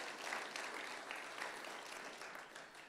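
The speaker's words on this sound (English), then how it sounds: "One more big round of applause for Jason Myers Racing." Applause at a sprint car racing championship awards banquet, honoring a race team: a fairly quiet, steady patter of many hands clapping in a large room, slightly uneven in level.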